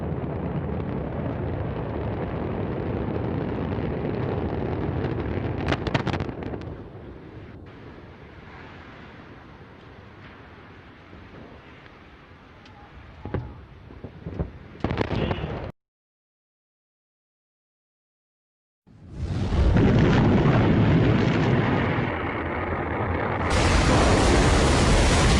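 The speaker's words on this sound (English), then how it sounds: "we have liftoff of Antares, the orbit 3 mission" An Antares rocket lifts off on the Orb-3 mission carrying a Cygnus cargo craft, its engines producing a loud broadband roar that thins and fades, breaks off into silence, then returns as another heavy, harsh rumble.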